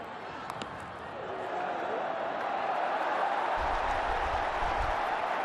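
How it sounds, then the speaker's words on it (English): A large stadium crowd cheers in a steady, loud roar at an India vs Pakistan T20 cricket match, swelling after the first second and holding, with a low rumble near the end. "The crowd are loving it."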